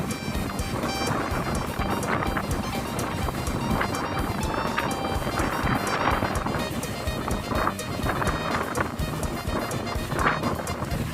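Strong wind blows hard at a seaside shore on Songkhla Lake in Thailand as rain approaches, a constant, loud, buffeting rush over the microphone with waves churning beneath, no voices.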